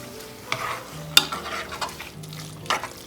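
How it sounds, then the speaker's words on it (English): Sweet cream corn being stirred in a pan for homestyle peas and corn, with soft spoon scrapes and clicks over a low, steady sizzle and one sharper knock against the pan partway through. "Now you're going to need to stir this because you don't want it to stick to the bottom of your pan"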